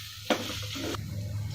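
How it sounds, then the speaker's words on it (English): Ginger garlic paste sautés in a pan for beetroot kurma, a short sizzle with a brief scrape of stirring over a steady low hum, quiet and close, no talking. "So we have to saute the ginger garlic paste till the raw smell go off."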